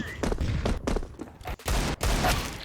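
Rapid bursts of gunfire from Counter-Strike 2 crack out in several close, loud volleys separated by brief gaps, alone with no voices.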